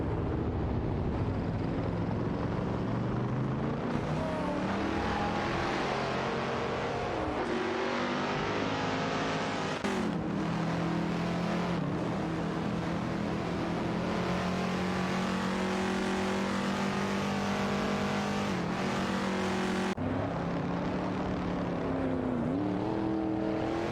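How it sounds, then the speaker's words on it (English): Engines of race cars in a video game race, among them a Chevrolet Corvette C2, roar continuously and loudly, pitch rising and dropping sharply with gear changes and passing cars, no voices. "The Chevrolet Corvette C2 VCC is putting on a strong performance"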